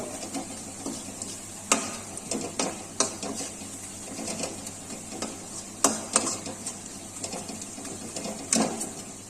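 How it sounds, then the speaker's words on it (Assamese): Mixed spices with a little salt frying in a pan for a chicken liver dish, with sharp, irregular spatula scrapes and clicks over a low, continuous sizzle, close up and without talk. "এতিয়া আমি গুটেইখিনি মছলা একেলগে অলপ ভাজি লম"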